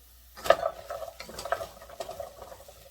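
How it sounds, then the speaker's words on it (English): Butternut squash drops into hot oil for chili, starting with a sharp clatter, then softer sizzling and stirring scrapes in short bursts, close and without talk. "this is when I would like to add the squash, just so I can get it in that oil as well"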